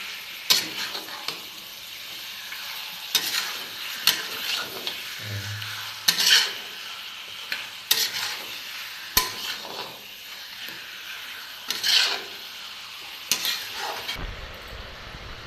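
Chicken curry frying in a pan with a spatula scraping and stirring in repeated sharp strokes over a steady sizzle, nearby and fairly loud, with no talking.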